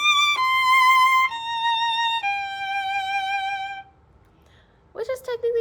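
Violin playing an excerpt from Jupiter as three sustained stepwise descending notes bowed without returning to the frog, clear and close, followed by a brief spoken voice.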